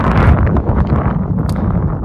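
Strong wind buffets the microphone at the base of King's Peak in Utah, producing a loud, continuous low roar with gusty fluctuations.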